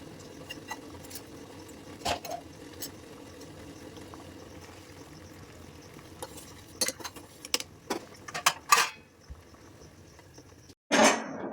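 Rice is set to cook in a pot on a home kitchen stove: quiet bubbling runs underneath, broken by scattered light clinks and knocks of metal cookware and one louder clatter near the end.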